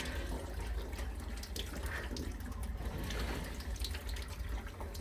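Water gushes steadily from a repaired laundry faucet as air clears from the line, a constant close hiss and splash that holds at an even level throughout, with no talking.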